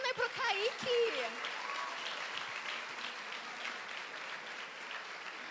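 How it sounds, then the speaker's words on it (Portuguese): Applause from an audience at a children's class ceremony as two three-year-olds move up to the next class, steady clapping that swells then holds, with a voice speaking briefly at the start. "Palmas para a Marina e para o Kaique"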